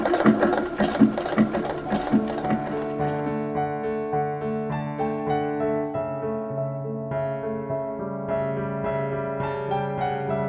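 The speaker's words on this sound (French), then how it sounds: "On va venir coudre les deux." A sewing machine stitches together the back pieces of a dress with a quick rattling run at the start, then falls quiet under sustained tonal background music.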